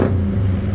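A remapped Raider Fi motorcycle engine holds a steady, loud, close idle-to-rev tone for under a second, a deep hum with no voices over it.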